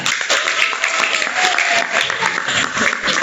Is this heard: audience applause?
yes